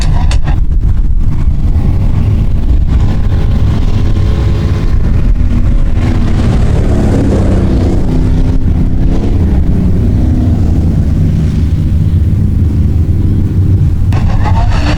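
Hobby stock race cars circle a dirt oval during a weekly racing series heat, their engines a loud, continuous rumbling roar that swells and fades as the pack passes, with heavy wind buffeting throughout.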